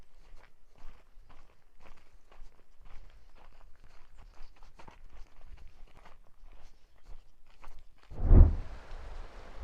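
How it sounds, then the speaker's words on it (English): Footsteps walking down a road toward a beach on Paxos Island, Greece, steady close treads in a regular rhythm, with a brief louder thump and rustle near the end. "And now we're gonna walk down this road"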